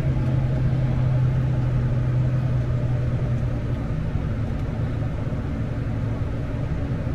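A tractor at a ploughing match runs with a steady low engine rumble, loud and close, as from inside the cab, holding an even drone throughout with no talking.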